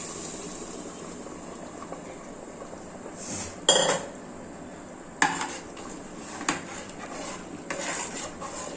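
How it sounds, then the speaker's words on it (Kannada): Cooked dal being stirred into a deep-fried onion-tomato tempering in a pot for dal khichdi: a spoon scrapes and clinks against the metal with a few sharp knocks, over a steady kitchen hiss and with no talking. "ಅದನ್ನು ಡೀಪ್ ಫ್ರೈ ಆಗಿರೋವಂಥ ಒಗ್ಗರಣೆಗೆ ಬೇಳೆಕಟ್ಟಿಗೆ ಮಿಕ್ಸ್ ಮಾಡ್ಕೊತಾ ಇದ್ದೀನಿ"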